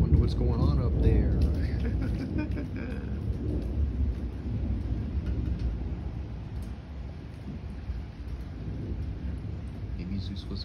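Deep, steady rumbling of thunder rolls on for the whole stretch, heavy and continuous, with a faint hiss like light rain over it.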